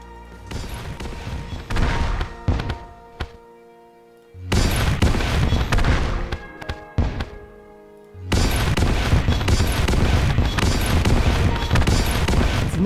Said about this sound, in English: Supernova creates a massive explosion on impact, explodes into spikes and homing energy